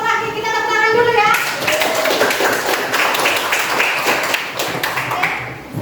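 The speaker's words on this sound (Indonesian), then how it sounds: "kita tepuk tangan dulu ya." A school class claps for the next student group, dense scattered hand claps rising after an opening stretch of voices and continuing at a lively, uneven pace with children's chatter mixed in.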